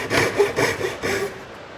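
A thin 0.2mm-blade Japanese SUIZAN pull saw cutting wood, with several rhythmic rasping strokes close up that fade toward the end, no voices.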